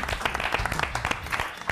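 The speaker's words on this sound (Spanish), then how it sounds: "Ahora recibimos con un aplauso a Roberto Moldavsky." Studio audience applause at a 2016 Canal 9 television comedy show welcomes a stand-up comedian, a dense burst of clapping that stays steady for about two seconds with a faint low tonal layer beneath.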